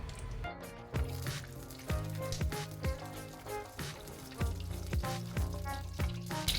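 Five or six garlic cloves sizzling and crackling in hot oil in a pan for South Indian fish fry, a steady close frying hiss with intermittent pops and spatters, no talking.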